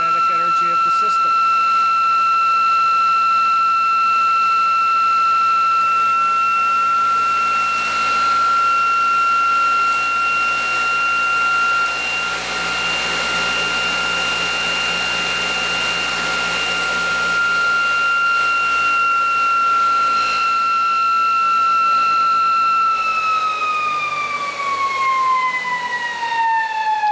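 A ReGenX quantum motor generator runs under load beside an induction motor, with a loud, steady machine whine and high tones that hold level, then glide downward near the end.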